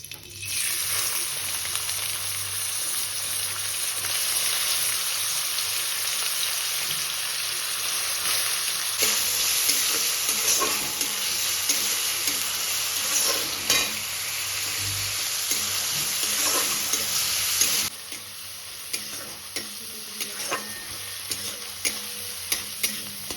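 Chopped onion frying in mustard oil for chicken tehari, a steady close sizzle with occasional stirring scrapes, loud and continuous with no voices.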